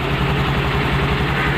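A Honda Activa 6G scooter engine running after a self-starter start, a loud, close, steady idle with a low rhythmic chug and no voices.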